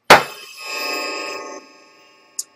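A handheld kaleidoscope made for blind users, banged hard, gives a single loud metallic clang that rings on with a sustained chiming tone for about a second and a half, then fades, followed by a small faint ding.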